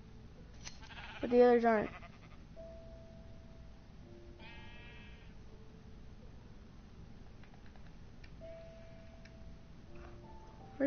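A Minecraft sheep gives one loud, wavering bleat near the start, followed by fainter game sounds, while a player speaks briefly.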